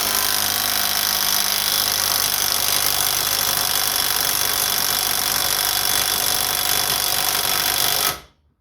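Alloyman 20v brushless 1/2 inch impact wrench running in forward on high power, a loud, steady, continuous hammering buzz lasting about eight seconds before stopping abruptly.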